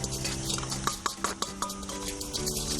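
A bowl of orange juice dressing with zest being whisked or stirred by hand, with a run of sharp utensil taps and clinks against the bowl over a steady near background, no talking.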